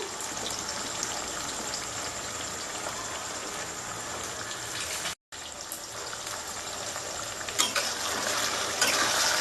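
Taro (arbi) pieces frying all at once in a generous amount of hot oil for a crispy Bengali-style fry, a steady dense bubbling sizzle throughout with a brief break and a few louder crackling spurts near the end.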